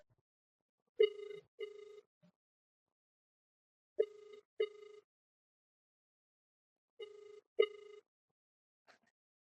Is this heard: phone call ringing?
yes